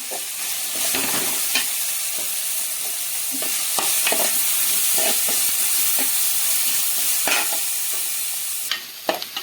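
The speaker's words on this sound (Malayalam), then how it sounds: "ഇപ്പം നമ്മുടെ ഉള്ളിയൊക്കെ നന്നായിട്ട് വഴണ്ട് വന്നിട്ടുണ്ട്" Onions frying in a pan with salt and curry leaves make a steady close sizzle, broken by repeated scrapes and stirs of a spoon, with no one speaking.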